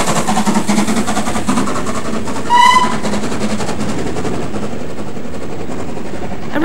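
A steam train runs on a restored railway, a rumbling, rhythmic roll of wheels and engine with a brief whistle-like burst near the middle, heard without talk.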